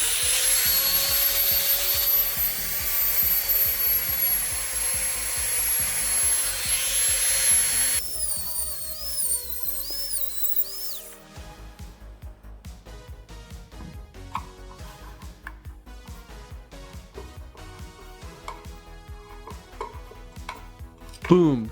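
A Phalanx rotary tool cuts a slot across a screw head, a loud high-pitched whine at first that drops to a rougher, lower grinding as the cut goes on.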